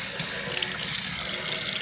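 Tap water runs steadily onto a forearm, a continuous close splashing hiss with no talking, in a small space.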